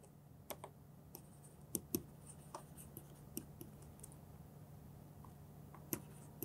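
Marker or chalk writing on a board during a maths lecture, with faint, irregular taps and short scratchy strokes over a low steady hum in a quiet room.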